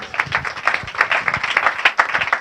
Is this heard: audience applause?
yes